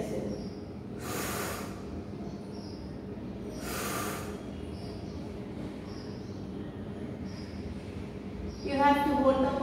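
Two slow, deep breaths during a yoga pose, each a soft broadband rush lasting about a second and spaced a few seconds apart, with quiet room tone between and a brief clatter at the end.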